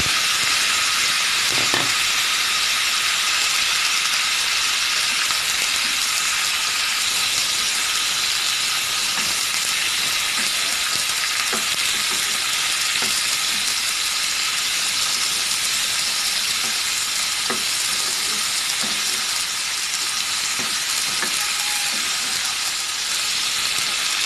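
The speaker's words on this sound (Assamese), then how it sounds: "এতিয়া আমি কাটি লোৱা বিলাহী, পিঁয়াজ, আদা নহৰুখিনি ইয়াতে অকণমান সময় চফ্ট হোৱালৈকে ভাজি ল'ম।" Chopped tomato, onion, ginger and garlic fry in hot oil for paneer butter masala, giving a steady, close, even sizzle and hiss with occasional faint pops, with no talking.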